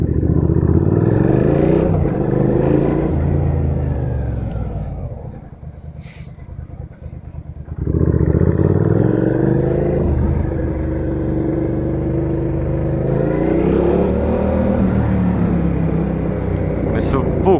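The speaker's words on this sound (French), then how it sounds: "Mais ce pot, clairement, il fait un son radieux quand même." A motorcycle engine revving loudly through its exhaust pipe close by, rising and falling in several long revs with a short quieter dip in the middle.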